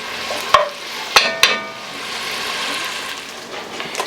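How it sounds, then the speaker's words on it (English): Bacon, about four or five slices, rendering down in a pan for New England clam chowder, giving a steady soft sizzle with a few sharp clinks of stirring near the start; no talk. "so this bacon is rendered"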